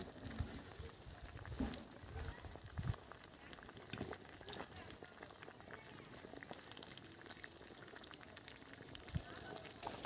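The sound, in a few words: fish curry broth boiling with spinach added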